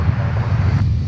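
An Airbus A300 touching down on runway 30 left at Minneapolis–St. Paul airport, a loud, steady low engine roar with wind rumble, close and continuous.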